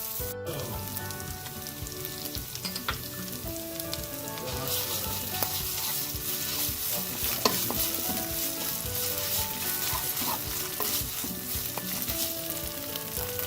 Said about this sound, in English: We're going to fry these for a few minutes till they start caramelizing just a little bit.